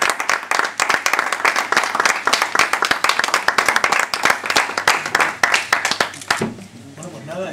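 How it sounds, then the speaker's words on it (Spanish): Audience applause at a formal signing ceremony, dense steady clapping from a room full of people for about six seconds before it breaks off abruptly, followed by a brief quiet stretch with faint voices. "Se puede aplaudir."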